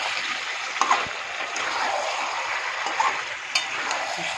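Chicken and potatoes being stir-fried in oil in a pan, with a steady close sizzle and a few sharp clinks and scrapes from stirring.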